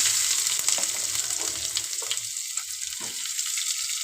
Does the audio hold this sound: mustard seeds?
yes